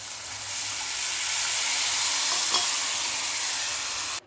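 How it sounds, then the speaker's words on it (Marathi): Tur (pigeon pea) liquid hits a hot pan while making amti, raising a loud, steady sizzling hiss that holds for about four seconds before stopping abruptly, with no voices. "आता आपण जे तयार केलेलं जे आपण लिक्विड आहे ना तुरीचं ते टाकून घेऊया"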